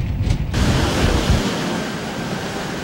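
Waves wash onto the littered shore of Manila Bay along Roxas Boulevard after bad weather, a steady broadband rush of surf with wind noise, louder rumble in the first second and a half, no voices.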